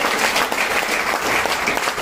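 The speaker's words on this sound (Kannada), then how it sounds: "ಜೋರಾಗ್ ಚಪ್ಪಾಳೆ." Loud, dense applause from a crowd, steady and continuous throughout.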